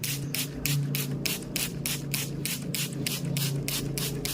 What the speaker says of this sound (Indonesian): kemudian kita akan kocok sehingga larutannya bisa merata bercampur dengan air